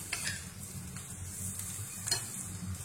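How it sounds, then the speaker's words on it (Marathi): Cluster beans (gawar) roasting until crisp in a pan, giving a steady sizzle with occasional stirring scrapes, close and moderately loud, no talking. "अशी शेंग भाजली पाहिजे, अशी खरपूस भाजली पाहिजे"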